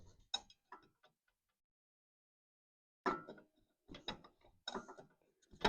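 A large box end wrench ratchets and clicks while tightening the nut on a tractor block heater, a few quick metallic bursts near the start, a pause of silence, then several louder close clicking runs.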